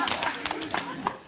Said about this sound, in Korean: 자 이제는 박수를 치면서 한번 웃겠습니다